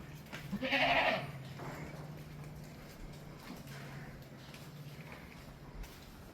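A single short bleat from a young goat kid early on, fairly close, followed by several seconds of quiet background hum with faint shuffling.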